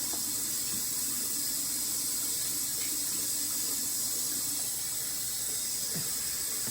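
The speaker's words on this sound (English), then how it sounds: "we start filling up a bowl with water" Tap water runs steadily into a bowl with a constant hissing rush and no pauses.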